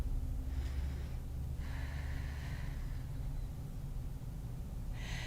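Slow, audible breaths taken during a yoga pose, a couple of soft drawn inhalations and exhalations over a steady low background hum.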